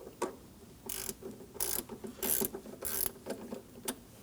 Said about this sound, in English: Using a 10mm wrench, we will be loosening the nut on the negative battery terminal.